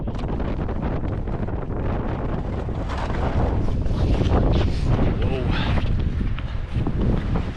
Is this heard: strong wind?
yes